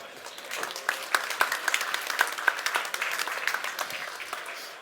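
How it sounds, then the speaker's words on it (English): Audience applause for speakers at an applied AI lunch talk, a crowd clapping steadily for several seconds with scattered louder claps and faint voices underneath. "Give them a big round of applause."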